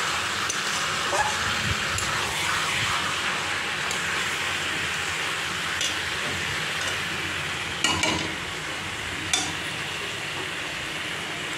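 Meat and previously fried potatoes being stirred in a pan, a loud steady sizzle and frying hiss with scraping stir sounds and a couple of sharp clinks near the end.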